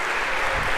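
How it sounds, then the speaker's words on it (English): A lecture hall audience at an introductory computer science class applauds volunteers, a dense, continuous wash of clapping throughout the brief moment. "One more round of applause if we could for our volunteers."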